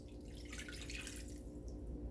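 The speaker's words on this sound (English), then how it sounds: "we're going to go ahead and add some water" Water pours steadily into a hot pan of cooking ground turkey taco meat, a faint, continuous trickling and splashing with no voices.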